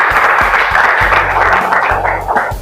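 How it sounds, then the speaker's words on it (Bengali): Applause from an audience at an art college's annual award ceremony, where a sculpture prize has just been announced. Dense, steady clapping fills the whole clip, with a few louder low thumps mixed in. "একবার জোরে হাততালি হয়ে যাক"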